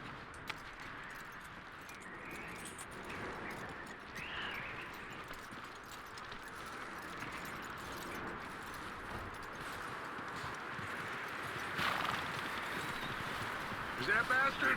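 Horse hooves clip-clop steadily in the Red Dead Redemption 2 video game, faint and rhythmic amid outdoor ambience, with a few louder knocks toward the end.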